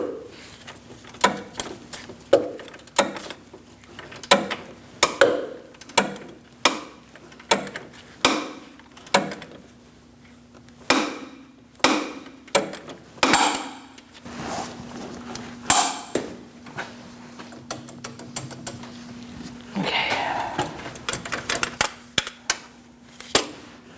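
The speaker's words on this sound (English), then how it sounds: "Let's torque these to 73 foot-pounds." A torque wrench tightens the front lower inner ball joint bolts on a 2000-2006 Mini Cooper, giving a long series of sharp metallic clicks and ratcheting taps in uneven bursts, close and crisp with no talk.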